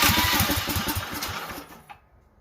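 A DuroMax 440cc engine on full choke with no throttle is pulled over in a rapid chugging burst, then cuts out after about two seconds, leaving near silence.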